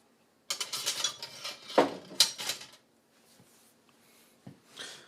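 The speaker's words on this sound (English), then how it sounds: "I will attempt to cut a slice." Knife cutting a slice of dessert on a serving platter, a few close scraping and clinking contacts of blade against dish followed by fainter scrapes.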